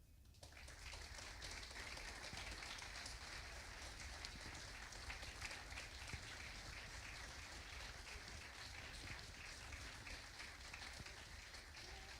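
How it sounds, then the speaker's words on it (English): A crowd at a football club's player of the year awards night applauds an award winner, a dense, even wash of clapping that holds steady at a moderate distance for the whole stretch. "Please give a round of applause to Eden Bailey"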